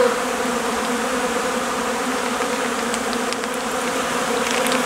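Honeybees buzz densely around protein feed set outside the hive on a February day, a continuous close drone with no pauses and no voices.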